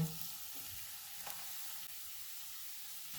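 Steady, soft sizzling of onion frying in hot oil in a pan, a continuous hiss with a faint clink near the start, no voices.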